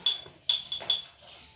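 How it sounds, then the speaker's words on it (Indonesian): A ceramic plate is tapped and handled by a child in a classroom lesson on sound, giving four quick bright clinks in close succession, fairly faint and without talk. "Gimana piring bisa menghasilkan bunyi?"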